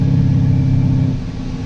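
A 1000+ HP Corvette engine runs with its exhaust closed, a loud, deep, steady rumble throughout that eases slightly toward the end.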